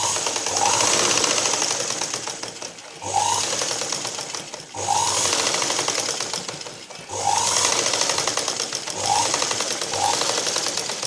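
A sewing machine stitches a blouse in repeated bursts of rapid, loud mechanical whirring, with brief pauses between four or five runs, close and alone without speech.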